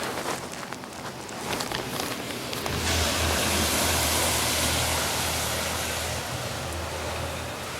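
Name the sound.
Oncor utility truck passing by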